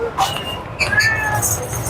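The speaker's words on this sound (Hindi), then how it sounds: "ये ब्राउन बिल्ली है।" A brown cat at a busy pet market meows in several short, close, rising calls, with people talking in the background.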